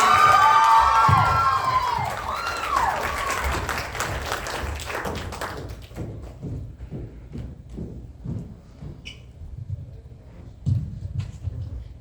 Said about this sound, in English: One more round of applause for Marika.